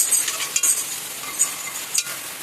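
Pantua sweets fry in hot oil with a continuous crackling sizzle, broken by a few louder bursts as pieces shift, heard up close without any talking.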